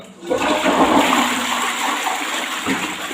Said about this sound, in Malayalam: പത്ത് പതിനഞ്ച് മിനിറ്റ് നമ്മൾ ഇതുപോലെ വെച്ചതിന് ശേഷം ഒന്ന് ഫ്ലഷ് ചെയ്ത് കൊടുക്കാം